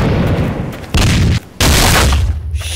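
Shotgun blasts in the FPS video game Devil War, two loud booming shots in close succession, each with a short tail.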